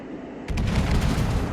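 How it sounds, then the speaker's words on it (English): A broadside from the German battleship Pommern in World of Warships, all 12 guns going off together as one loud, booming blast that sets in abruptly and rumbles on without a break. "then I'll open up all 12 guns"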